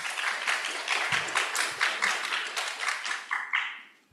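Audience applause for the speakers at the close of an academic conference panel, a steady wash of many hands clapping that holds for about four seconds and then fades out.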